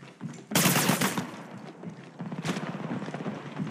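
Gunfire in the mobile battle royale game Apex Legends Mobile, rapid automatic bursts that crack loud and close, then a second rattling stretch of fire.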